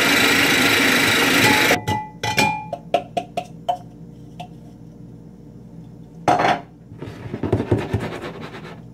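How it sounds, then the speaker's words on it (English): A small food processor whirs loudly for a moment as it grinds white bread into breadcrumbs, then stops, followed by a series of sharp clatters and scrapes of the bowl and blade. "I'm going to throw it in the little food processor here and make some breadcrumbs"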